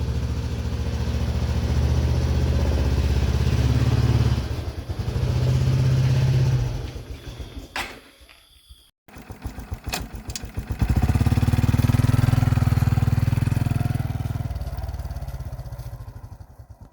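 Semi-automatic motorcycle engine running loud and close, a steady low rumble that dips briefly and drops out near the middle before resuming strongly, with no talking.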